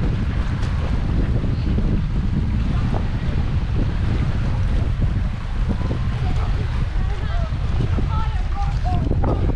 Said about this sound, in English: As you can hear, the wind's picked up, the sun's gone.